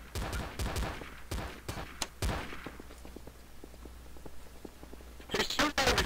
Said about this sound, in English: He's shooting at me, stand up!